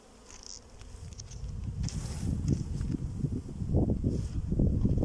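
Honey bees swarm with a steady, dense buzz at an open hive during a summer check for adding honey supers, growing louder and closer through the clip, with occasional light handling noises and no talking.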